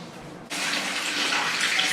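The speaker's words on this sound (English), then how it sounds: "Super hot water, as hot as you can get it really" Very hot water gushes from a tap after a short quiet moment, starting abruptly and then running as a steady, close splashing stream with no talking.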